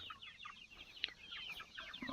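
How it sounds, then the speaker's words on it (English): Several Freedom Ranger meat chickens cluck and chatter softly in a quiet, continuous flock murmur, fairly faint. "Quick update on our meat chickens."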